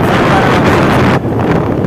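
Steady wind rushes and buffets against the microphone, a loud continuous roar with a brief dip partway through.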